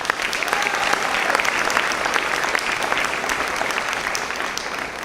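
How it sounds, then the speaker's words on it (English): Audience applause for teachers at a graduation ceremony in Eleuthera, a steady, dense clapping from a large crowd that carries on evenly throughout. "Please give the teachers a round of applause."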